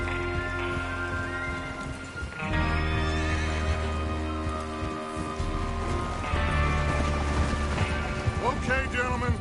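Horses in the Red Dead Redemption 2 video game, with loud whinnies and neighs over galloping hoofbeats and rattling tack, close and continuous, mixed with voices talking.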